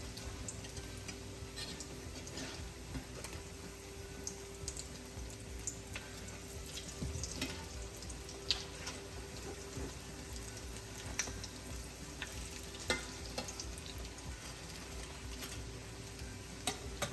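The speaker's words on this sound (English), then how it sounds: "When I am frying cornbread or I'm frying salmon patties, I really am working this skillet." Steady sizzling and crackling of salmon patties frying in hot oil in a skillet, with occasional scrapes and clicks in the pan, no talking.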